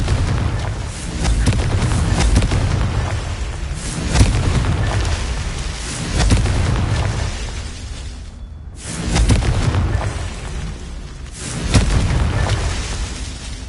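Confringo blasting spells explode again and again in Hogwarts Legacy, with loud booming bursts arriving roughly every two seconds and a brief silent gap near eight seconds before the blasts resume.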